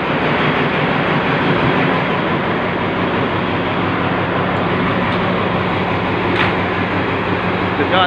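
Train at the new Rangsit station in Thailand, a loud steady rumble of rolling carriages with rhythmic low clatter throughout, close and continuous.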